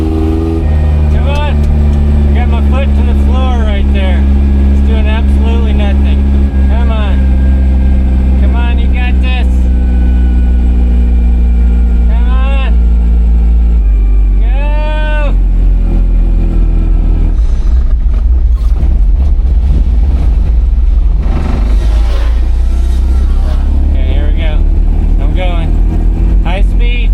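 An old, cheap used car's engine revs loud and steady with the accelerator floored while it stays put, a constant droning rumble under someone talking throughout.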